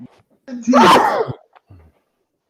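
A single loud sneeze bursts out close to the microphone, a sharp intake followed by an explosive release, with a few quiet words spoken just after it.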